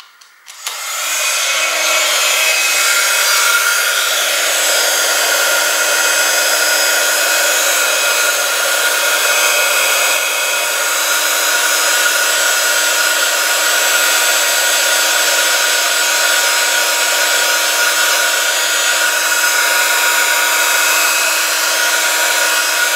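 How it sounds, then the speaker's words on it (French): A heat gun runs steadily for over twenty seconds, drying waterproof ink for a letterpress card project; the loud, even blowing hiss starts abruptly and holds with no pauses or talk. "je vais quand même la chauffer, enfin, la sécher avec mon heat gun"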